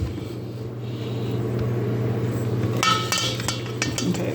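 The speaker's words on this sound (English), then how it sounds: "And I'm just gonna blend this." Strawberries are blended with an immersion blender: a steady low motor hum and rumble, then clinks and chinks of the blade against the container, close and moderately loud, with no talking.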